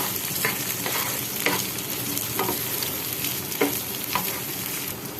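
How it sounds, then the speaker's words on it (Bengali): Chopped garlic, green chilli and vegetables fry in a pan, giving a steady sizzle throughout with a few soft stirring scrapes and clinks, close and fairly loud, with no talking. "আমি এগুলোকে 30 সেকেন্ডের মতো ভেজে নিয়েছি।"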